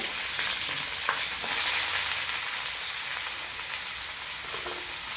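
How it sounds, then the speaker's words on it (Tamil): Garlic and mustard seeds splutter and crackle steadily in hot oil for a village-style sardine (mathi meen) kuzhambu, a dense, close sizzle with scattered pops and no talking. "பூண்டு கடுகு நல்லா பொரிஞ்சணும்"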